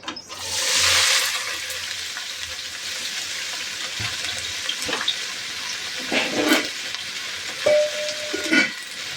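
Yardlong beans, potato and onion drop into hot oil in a pan with a loud burst of sizzling that settles into a steady fry, broken by a few stirring clinks.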